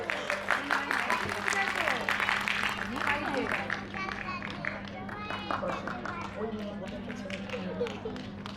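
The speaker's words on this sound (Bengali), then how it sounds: "একটু জোরে করতালি।" An audience at a fashion event claps in a dense, sustained burst of applause that slowly thins out, with crowd murmur and a voice over it.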